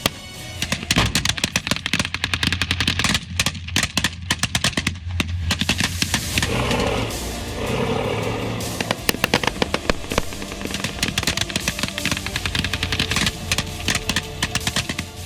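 Heavy gunfire on a Syrian front line where ISIS fighters and the Syrian army trade shots, loud dense bursts and single cracks crowding one another throughout, with no speech.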